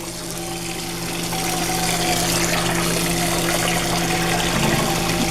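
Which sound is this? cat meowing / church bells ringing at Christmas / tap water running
tap water running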